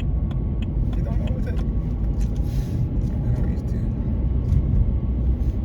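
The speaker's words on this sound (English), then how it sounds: "the famous Corsa that always comes and tries to overtake" Steady low road rumble and engine drone from inside a moving car, with a Vauxhall Corsa following close behind and about to overtake; the noise stays constant and fairly loud throughout.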